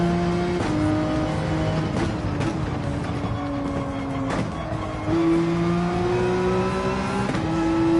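Porsche 911 engine in Gran Turismo 7 drones steadily with rising and falling revs through gear changes, loud and continuous across the whole stretch, with brief tire scrub during cornering and no talking.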